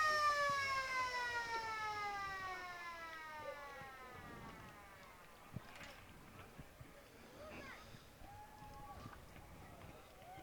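Siren at a country Australian football ground sounding to end the match: a long wailing tone that slides steadily downward and fades over the first few seconds, followed by distant crowd noise.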